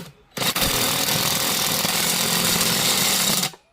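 A power tool gun driving screws, starting abruptly and whirring loudly and steadily for about three seconds before cutting off, close to the listener.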